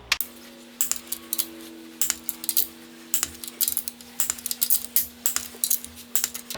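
Torque wrench clicking while camshaft caps are tightened down, a series of sharp, close metallic clicks and ratchet taps in irregular bursts over a faint steady hum.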